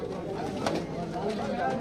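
Gorombaji pigeons at the Magrahat bird market coo softly and faintly while people talk nearby.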